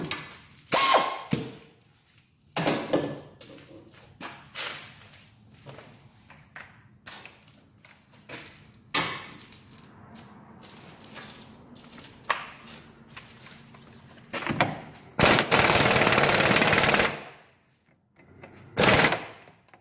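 A socket wrench with a 32 millimeter socket works the axle nut loose on a 1999 Ford Explorer 5.0, giving bursts of loud ratcheting clicks separated by pauses and small metallic knocks, near and without talking.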